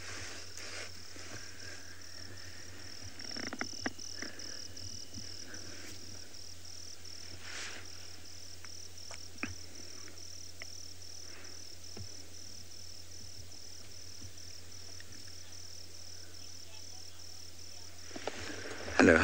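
Crickets chirp faintly and continuously at sunset beside a waterhole on safari, a thin high buzz under a low hum, with a few soft clicks and no talking.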